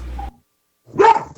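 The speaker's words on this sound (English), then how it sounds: "all day my dogs are barking to some things that are going on outside" A dog at home gives a short muffled bark, then after a brief silence a louder, sharper bark rings out close by.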